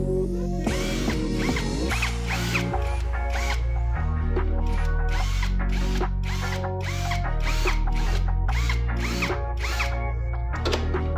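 Power drill boring through plastic pins on a car door panel, repeated close whirring bursts in a steady rhythm with rising and falling motor pitch, loud and uninterrupted.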